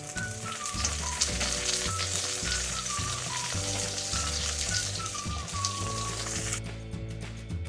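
Green chillies and curry leaves sizzle and crackle steadily in hot oil for a white lemon pickle, a continuous close frying hiss under soft tonal background music.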